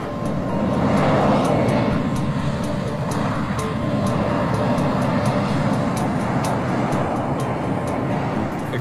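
A private jet's engines roar in a steady, loud, broadband rush on landing approach with flaps set, close and continuous with faint rhythmic ticking above.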